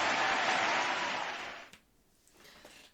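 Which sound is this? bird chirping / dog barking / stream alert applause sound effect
stream alert applause sound effect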